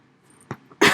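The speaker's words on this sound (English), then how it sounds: "You gotta get the coughs out first." A single short cough from a person, sharp and close, set among faint room noise and followed by a burst of louder sound.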